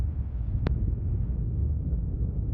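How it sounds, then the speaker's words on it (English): Wind gusts across a hilltop at night, a low, steady rumbling buffet against the microphone with one short high blip partway through. "Yes, it is windy up here."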